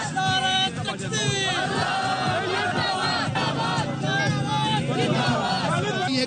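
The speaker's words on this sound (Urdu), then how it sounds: "پاکستان زندہ باد کے نعرے لگائے جا رہے ہیں" A large rally crowd chanting patriotic Pakistan Zindabad slogans in unison, a dense, loud, continuous roar of many voices with rhythmic shouted phrases.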